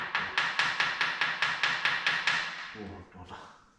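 A hammer tapping through a paper gasket to cut it, about ten quick, even, close strikes in a steady rhythm, followed by a few softer knocks and handling sounds.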